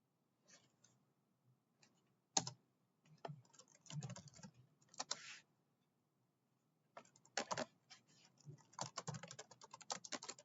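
Code being typed on a computer keyboard in a quiet room: faint, crisp keystroke clicks come in irregular bursts with short pauses between them, close and alone with no talking.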